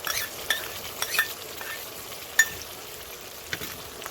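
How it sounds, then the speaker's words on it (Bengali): Whisked yogurt with cashew and melon-seed paste goes into spices frying in a pan, giving a soft, low sizzle with a few light clinks as it is stirred. "এবারে ফিটিয়ে রাখা দই আর কাজু আর ঝালমগজ বাটাটা দিয়ে দিচ্ছি"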